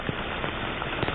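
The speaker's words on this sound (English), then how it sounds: "the rain is really coming down. It is a heavy rain at this point" Heavy rain falls outdoors during flooding, a dense, steady hiss of drops hitting surfaces that fills the whole clip evenly, close and loud, with no voices.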